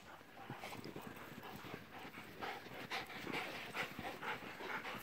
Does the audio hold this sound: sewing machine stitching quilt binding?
no